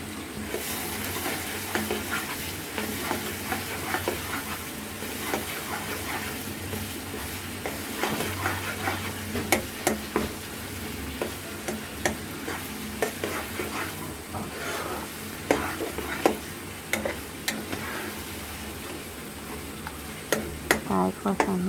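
Duck meat being stirred and sautéed with spices such as ground cardamom in a pan, a continuous sizzle broken by repeated scraping strokes and clicks of the spatula that carry on for over twenty seconds without any talk.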